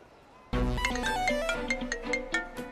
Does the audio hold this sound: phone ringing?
yes